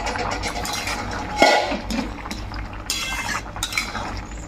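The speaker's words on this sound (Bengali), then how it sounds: "যেমন এই খুন্তি করে কাটা যাচ্ছে আলুগুলো" Metal spatula pressing and cutting through boiled potatoes in a pot, a few soft scraping clinks and a sharp tap near the pot edge amid steady kitchen background noise, no talking.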